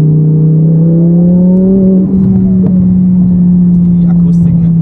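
A 1200 hp Audi R8 with a biturbo engine, heard on a test drive: a loud, sustained engine drone whose tone climbs slightly and then holds steady.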